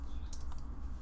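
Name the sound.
pressing keys on a computer keyboard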